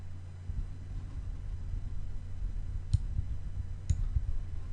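Two crisp computer mouse clicks about a second apart, heard against a low hum of room noise while working in XRS fleet software.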